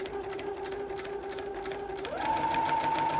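A sewing machine runs steadily, stitching fabric onto a denim jacket. Its motor hum rises in pitch and grows slightly louder partway through as the stitching speeds up, with no talking.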